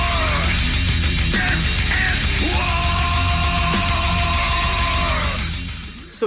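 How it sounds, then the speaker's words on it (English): A heavy metal wrestling entrance theme blares loudly with dense, distorted crushing riffs and screamed vocals, a sustained wall of sound that trails off at the end. "you're getting crushing riffs and screaming vocals"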